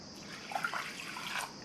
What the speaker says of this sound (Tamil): 1/4 கப் தண்ணி சேர்த்துருக்கேன்.